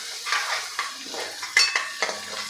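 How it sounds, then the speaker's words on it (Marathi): Crushed ginger and garlic being sautéed in a pan, with a soft sizzle and intermittent scraping and stirring strokes of a utensil against the metal, close by. "आलं आणि लसूण जाडसर कुटून घेतलेलं आहे। हे सुद्धा यामध्ये आपल्याला परतून घ्यायचं आहे।"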